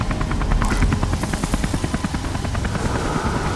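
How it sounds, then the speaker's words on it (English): A helicopter in the video game Beyond: Two Souls, its rotor chopping in a steady, fast, loud beat close by, with no voices over it. "What about the helicopter?"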